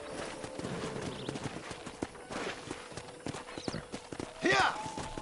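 Horse hooves clip-clop steadily in the video game Red Dead, a rhythmic walking gait with a brief whinny near the end, heard beneath characters talking over a low ambient score.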